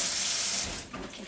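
Tap water runs steadily from a garden-side faucet as freshly picked garden greens are rinsed, a continuous close hiss that softens and drops lower partway through, with no voices.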